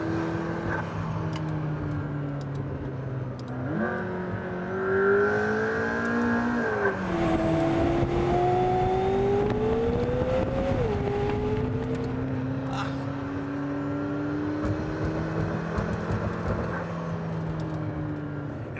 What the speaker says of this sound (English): That engine sounds like Andre Bocelli.